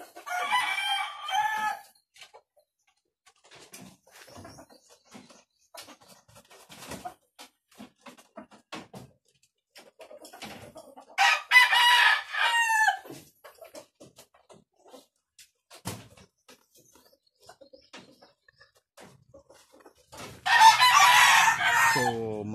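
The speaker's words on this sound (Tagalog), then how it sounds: "Saka may mga po alagang manok, no. Yung mga imported na manok pang sabong." Imported fighting roosters kept as gamefowl crow loudly three times, spaced roughly ten seconds apart, with scattered clucks and quiet farmyard sounds in between.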